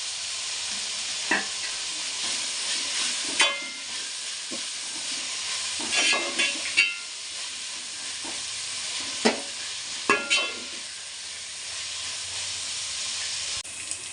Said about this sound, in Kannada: ತರಕಾರಿ ಹಾಕಿದ ಮೇಲೆ ಒಂದು ಸ್ವಲ್ಪ ಉಪ್ಪು ಹಾಕಿ ಚೆನ್ನಾಗಿ ತರಕಾರಿ ಎಲ್ಲ ಫ್ರೈ ಆಗಲಿ